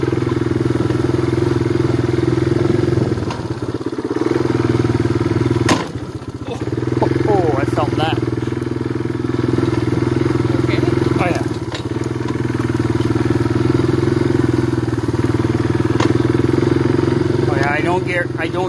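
A two-wheel-drive motorbike engine idling and revving in a steady low drone while riding through bush on an off-grid homestead in winter, with bumps, clatters and a few brief chirps over the engine.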